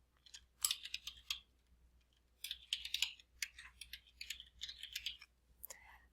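Quiet clicking of a computer keyboard while personal details are entered into an online enrollment form, with short irregular bursts of keystrokes separated by pauses.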